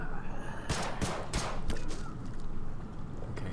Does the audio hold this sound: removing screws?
no